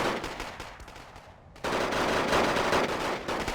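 Infantry rifle fire crackles in the Wargame: Airland Battle video game as elite Soviet-style foot soldiers engage riflemen armed with Mauser M96s, a dense, continuous stream of overlapping shots that briefly thins before swelling into heavy fire again.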